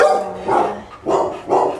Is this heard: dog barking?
yes